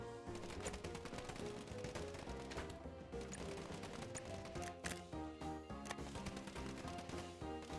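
A submachine gun fires rapidly and steadily in the game Path of Exile, a dense stream of crackling shots over layered game effects and music, continuous and fairly quiet.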